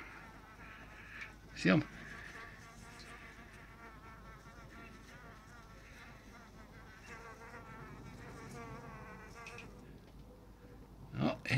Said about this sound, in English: Yeah, there you go, a wee bee. Buzzing away there, looking for a flower.